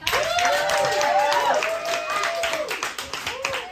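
Audience at a stand-up comedy show breaks into steady clapping and applause, a full round from the crowd with voices calling out over it before it thins and tapers off.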